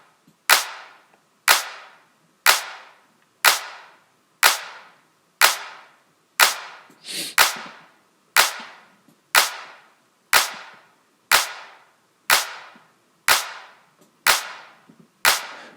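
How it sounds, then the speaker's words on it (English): A hard-clipped clap sample in an electronic music drop hits sixteen times in a steady, evenly spaced pattern, each crack sharp and punchy with a quick decay, loud and alone with no voices. "So let's clip my main clap in the drop."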